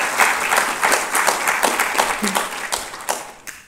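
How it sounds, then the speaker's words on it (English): Audience applause at an MLK celebration event, a full and fairly close burst of many hands clapping in an uneven steady rhythm that tapers off near the end. "Can we give her another round of applause?"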